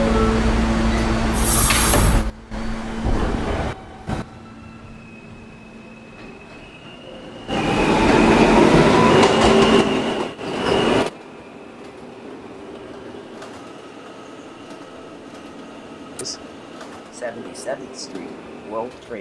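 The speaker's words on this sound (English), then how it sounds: "This is a potato brick bound E-train." An R160A E subway train runs with loud bursts of rumble and wheel noise separated by quieter stretches of low hum from the car and its air conditioning, with faint clicks near the end.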